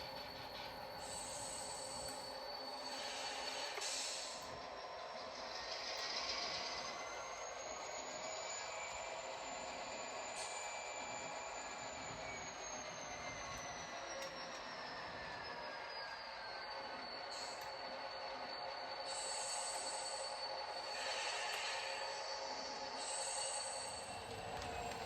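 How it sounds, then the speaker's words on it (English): A freight train pulls a long cut of railroad cars down the track at a distance, wheels squealing steadily over a continuous rumble for the whole stretch, with no voices. "So what we're doing now is we're pulling the entire train down, spotting the rear up at the tower"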